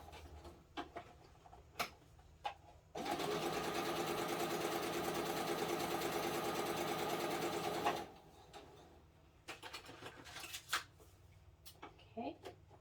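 A sewing machine whirs in a fast, steady stitching run for about five seconds, framed by scattered clicks and handling sounds before and after.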